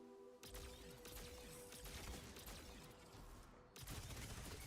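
SMG fire in the shooter Destiny Rising, a rapid, dense burst of gunfire with clattering mechanical detail that carries on almost without a break. It is fairly faint and sits in a busy game mix.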